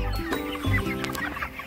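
Chickens clucking at a poultry farm, a steady close chorus of overlapping clucks and calls from many birds at once.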